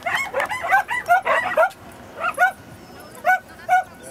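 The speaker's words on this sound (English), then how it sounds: "The dogs are cheering." Several dogs bark in quick, excited bursts, a dense flurry of yips early on thinning to scattered single barks, fairly close, during a boomerang-catching game.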